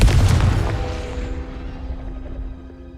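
A deep booming blast from a fire-charm explosion spell in a video game, loud at the onset and then rumbling away over a few seconds with a faint lingering tone.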